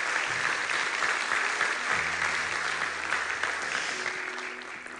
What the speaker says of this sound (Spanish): Un aplauso a Dios por Javier, por favor.